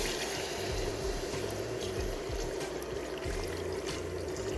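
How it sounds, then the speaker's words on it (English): Beef broth pours steadily into a pan of thickening homemade beef gravy, a continuous close liquid splash and trickle holding level throughout with no talking. "Next, we're gonna add our beef broth."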